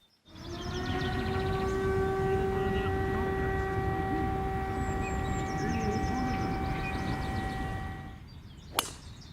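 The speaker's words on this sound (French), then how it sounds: "Et une fois que la sirène retentit, la compétition peut enfin commencer." A steady, loud siren with a sustained harmonic tone sounds for about eight seconds to start a shotgun-start golf competition, then cuts off, followed by a single sharp knock.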